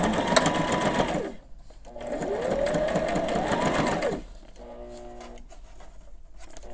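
A sewing machine whirs in two sustained bursts of rapid stitching, close and steady, with a quieter pause and lighter mechanical sounds between runs.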